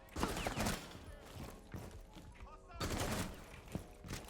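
Rapid bursts of gunfire ring out in Rainbow Six Siege, dense clustered shots in two main volleys with a few isolated cracks between, fairly close and loud, with someone talking partway through.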